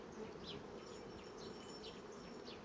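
Bees buzzing at an apiary, a steady soft drone with individual insects whining past in brief passes, quiet and close, with no voices.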